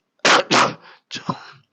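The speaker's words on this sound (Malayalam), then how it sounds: "ചുമയോണ്ടാണ്" A man in a shared room coughs twice in quick, loud, close bursts, then follows with a rougher, weaker hack and throat catch.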